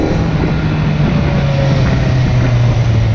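Kawasaki Z900 motorcycle engine running steadily while riding, a continuous low drone with a sustained hum, heavy wind rumble mixed in, constant and loud throughout with no talking.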